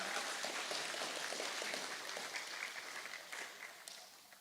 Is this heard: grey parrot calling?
no